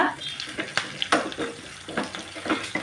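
Curry leaves crackle and pop in hot oil in a pan. The spitting is close and lively, with quick irregular bursts and a few stirring scrapes over about three seconds.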